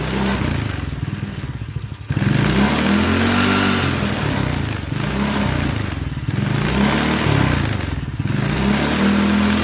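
A small 90cc Chinese four-wheeler ATV engine runs loud and close, a buzzing mid-pitched drone that dips and rises with throttle blips.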